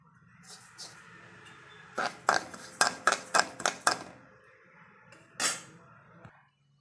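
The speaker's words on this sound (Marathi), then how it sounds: "गरम कढईमध्ये काय करायचं मोहरी भाजून घ्यायची थोडे वेळ अशी खमंग भाजून घ्यायची" Mustard seeds dry roast in a hot wok, giving quick clattering metallic scrapes in a rhythmic burst of about six strokes, with quieter stirring before and after and no voice.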